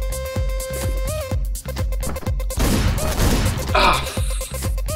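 Gunfire in the video game Hotline Miami, with sharp repeated shots popping at a fairly regular pace over a pulsing synth soundtrack, then a burst of noisier blasts and impacts toward the end.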